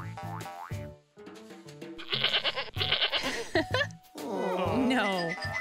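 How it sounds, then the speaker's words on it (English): A goat bleats in a toddler learning craft segment, a series of loud, quavering calls with a playful synthetic tone, preceded by a brief voice. "This is a goat."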